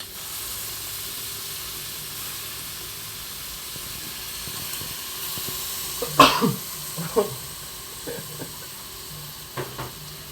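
Basil leaves hit hot oil in a squid and holy basil stir-fry: a steady low hiss gives way to a sudden loud burst of sizzling crackle midway, then fading spits and pops, with a voice speaking nearby.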